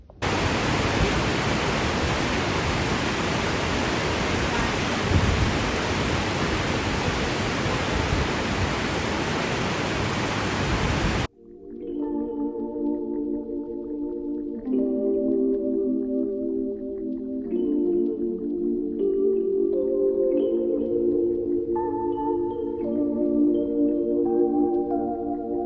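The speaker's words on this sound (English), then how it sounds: "Here's Boda's hiding spot from the storm." Steady, loud broadband hiss of storm rain pours continuously for about eleven seconds, then cuts off abruptly into quiet tonal music.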